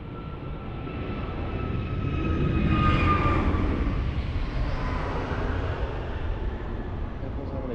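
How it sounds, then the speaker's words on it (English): An Airbus A321neo jet airliner on a long takeoff run at Lisbon Airport gives a steady, broad engine roar that swells near the middle and then holds, heard from a distance with no talk. "You might have noticed quite a long takeoff run there."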